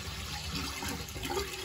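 Dirty apple cider vinegar hair rinse water poured out in a steady, close, noisy splashing stream that runs through the whole short moment.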